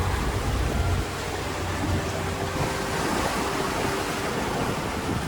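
Continuous rushing noise of choppy sea waves mixed with wind buffeting aboard a sailboat near Gümüşlük, Turkey, loud and steady throughout, with no voices.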